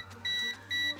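High-pitched beeps from a Kaiweets HT208D clamp meter in non-contact voltage detector mode, two sustained tones in one second, close and clear with no talking.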